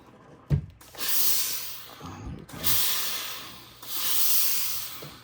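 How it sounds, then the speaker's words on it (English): A steam iron hisses in three long, strong bursts separated by short pauses while quilt block seams are pressed, each burst broad and breathy, with a soft thump of the iron before the first. "And as you can tell, I do use steam."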